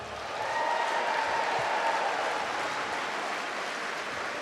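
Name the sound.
audience applause for the class of 2019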